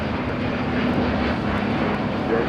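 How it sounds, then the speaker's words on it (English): Delta Airlines Airbus A350-900 taking off from LAX, a steady broadband engine roar heard from a distance, even in level with faint background hiss. "This is Delta Airlines 469 taking off to Atlanta, Georgia on an A350-900"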